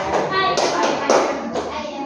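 A class clapping hands in a patterned rhythm along with a chant, short clustered claps under children and a teacher speaking in unison.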